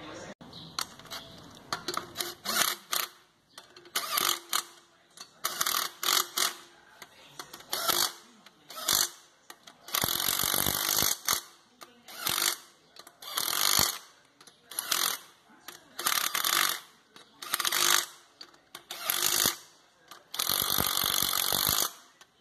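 A 12-volt cordless impact gun drives head bolts on a Chevrolet 5.7 Vortec engine during a head gasket job, in repeated loud close bursts of buzzing and hammering, each a second or two long with short pauses between.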